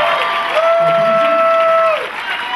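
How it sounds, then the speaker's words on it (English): Crowd applauding and cheering at a karate black belt ceremony, a loud roomful of clapping with voices mixed in and a sustained tonal whistle or squeal riding over it. "So again, one more round of applause."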